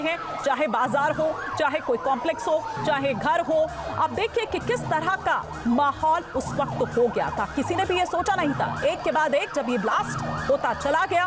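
Wailing emergency vehicle sirens in Lebanon after pager blasts, sweeping tones rising and falling loudly under continuous talk from a news narrator.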